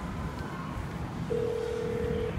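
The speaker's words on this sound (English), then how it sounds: "We're calling Ashin" A single steady telephone tone sounds for about a second mid-clip over a noisy room background, consistent with a phone dialing out, moderately loud and close.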